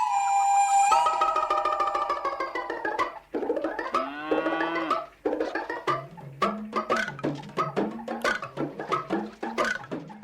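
Water buffalo mooing in a village while being bathed, with long low calls overlapping and repeating in a rhythmic series, loud and close, with no talk heard.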